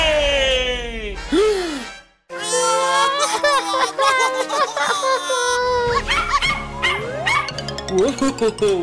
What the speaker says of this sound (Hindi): ये रहा आपका कुत्ता।